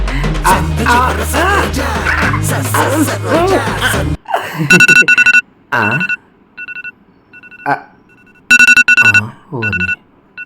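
Music and voices play, then stop abruptly, and a phone ringtone chimes in repeated short electronic bursts with gaps between.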